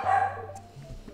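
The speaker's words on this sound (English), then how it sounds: "Sorry about the dogs." Dogs barking in a Stardew Valley Expanded game scene, a few short yips and barks over a steady low hum, fairly brief and moderately loud.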